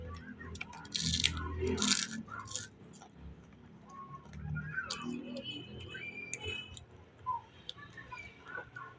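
Crunchy food is eaten close to the microphone, with bursts of crisp crunching and chewing broken by quieter pauses and faint ticking in the background.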